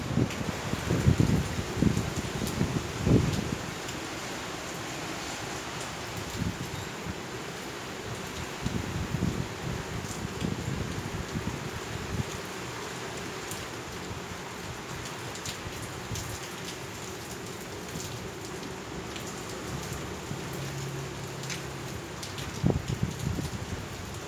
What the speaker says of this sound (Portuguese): Vamos curtir um pouquinho da chuva